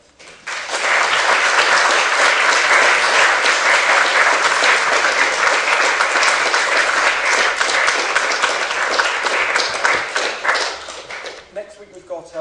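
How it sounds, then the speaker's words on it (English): Lecture audience gives a loud, dense round of applause after an architecture talk, rising quickly, holding steady for about ten seconds, then tapering off into scattered claps. "ladies and gentlemen, a round of applause"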